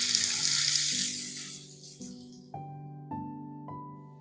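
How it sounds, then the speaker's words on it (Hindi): Sliced onions hit two tablespoons of hot oil on a tawa while tawa chicken is cooked, giving a bright hiss of sizzling that fades over a couple of seconds, followed by a few stepped musical notes. "ऑयल को गर्म करने के बाद इसमें डालेंगे प्याज"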